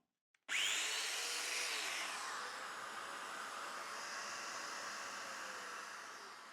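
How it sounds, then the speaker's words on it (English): A Festool Domino joiner cuts a mortise into a board clamped in a vise, a sharp start followed by a steady, loud, close whirring and rasping cut that runs unbroken to the end. "then use the domino with the stop again to make the cuts"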